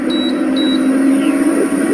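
The control panel of an electric cooking stove gives two short, high electronic beeps as it is switched on. A steady hum runs underneath, and no one speaks.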